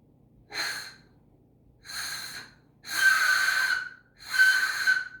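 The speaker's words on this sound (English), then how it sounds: "I can whistle for you like this" Four airy, breathy whistles blown one after another with short pauses between, each a hissy tone with a faint pitch.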